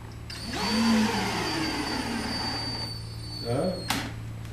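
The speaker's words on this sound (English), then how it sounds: "You can use either a screwdriver or a screw gun." A screw gun drives a screw into a kitchen cooktop during assembly, with a whining motor that rises and holds for a few seconds, then a short second burst and a click. The sound is close.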